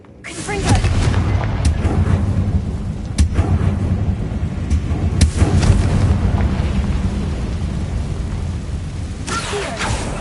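Fiery blast spell explosions in the Hogwarts Legacy game: a run of booming, rumbling bursts over a steady low roar, with sharp hits near 1.5, 3, 5 and 9 seconds, loud and close throughout.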